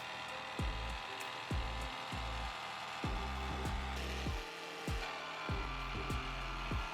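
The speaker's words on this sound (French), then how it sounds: "Vous découpez à la scie sauteuse l'ouverture de votre ouverture." A jigsaw cuts an opening in a van's body panel. It runs in repeated short bursts of rasping buzz with brief pauses between strokes, close and steady.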